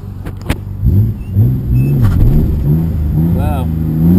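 Silver Nissan R32 GT-R engine accelerating on takeoff, a close, loud low growl whose pitch climbs and drops through several gear changes, with a brief higher whine near the end.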